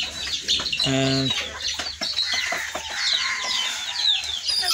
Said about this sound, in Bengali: এই ধরে ফেলেছে মুরগি।